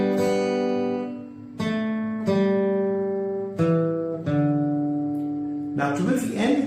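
A short acoustic guitar melody of single plucked notes, about six notes at an unhurried pace, each ringing clearly before the next.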